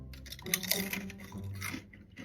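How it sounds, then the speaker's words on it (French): Close, crisp crunching and chewing, a few bites in quick succession, fairly quiet with no talking. "l'odeur appelle à un bruit qui va réveiller tout le quartier quand on croque dedans"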